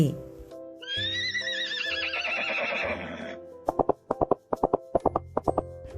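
A horse gives a long, loud whinny in a Thai children's story, its wavering call fading before a quick run of clip-clopping hooves.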